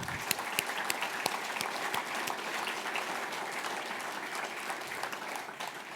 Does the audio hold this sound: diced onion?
no